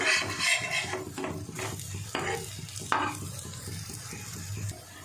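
Oats sandwiches stuffed with vegetables fry in a pan, producing a close, steady sizzle broken by a few scraping, clattering turns of a spatula, with no talk.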